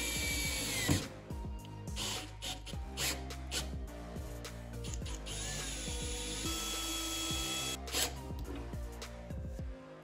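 Power drill driving 3.5-inch screws into a wooden board for a floating shelf, a close, loud whirring motor running almost continuously with brief pauses and pitch changes.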